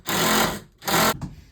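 Power drill driving screws into cabinets, two loud close bursts of whirring motor with a short pause between, then a brief faint tail.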